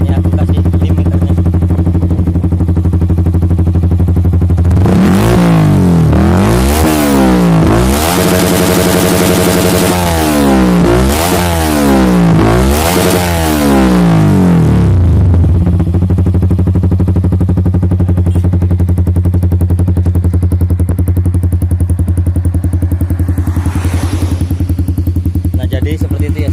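A motorcycle fitted with a Pure Sound WRX GP K1 aftermarket exhaust idles loudly up close, then revs repeatedly into its limiter in rising bursts before settling back to a steady, throbbing idle; a voice speaks over parts of it.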